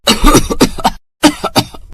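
Two bursts of harsh coughing from an elderly woman on a cold winter night, close and loud, separated by a short silence.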